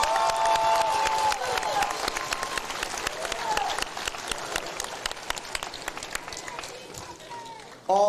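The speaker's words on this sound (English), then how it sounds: "let's give both of these warriors a big round of applause" A crowd applauds two boxers after their bout at a convention center, with dense, crackling clapping and some cheers that slowly thin out. A voice carries over the clapping before the clip cuts off.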